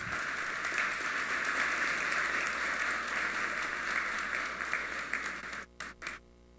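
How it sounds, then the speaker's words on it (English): Sustained applause from a crowd at a graduation ceremony fills most of the stretch, then breaks into a few scattered claps before fading. "To Mr. Antoine, a round of applause."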